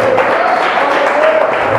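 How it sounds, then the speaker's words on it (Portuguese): Church congregation applauding during an evening service, a short, dense burst of clapping at full loudness filling the whole moment. "Uma salva de palmas para Jesus."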